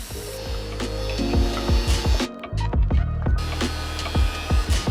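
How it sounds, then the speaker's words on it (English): A crosscut sled on a table saw slices through white oak floor-lamp legs at an angle, with repeated woody scraping and knocking sounds close by, a steady saw hum underneath, and a brief quieter gap midway. "I hot glued a referenced edge to my crosscut sled at my desired angle and cut both of the legs at the same time"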